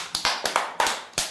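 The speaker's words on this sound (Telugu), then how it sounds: "నవదీప్కి ఒకసారి క్లాప్స్ కొట్టుండ్రు అందరూ." A classroom of children clapping for a classmate named Navdeep: several short bursts of hand claps, close and moderately loud, over about a second.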